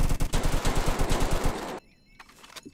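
Rapid automatic gunfire in Roblox Jailbreak, a loud burst of closely spaced shots rattling for about a second and a half, then cutting off to quiet with a couple of faint distant pops.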